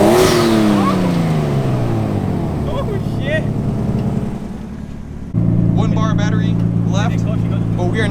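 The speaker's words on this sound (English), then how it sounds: "give it a little rev." Nissan Skyline R32 engine revving close by, rising and falling sweeps of engine tone, then a sustained drone with voices talking over it.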